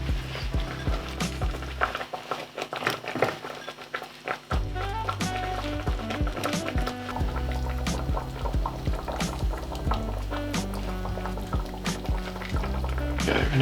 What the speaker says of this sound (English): so we're going to add our red peppers and our tofu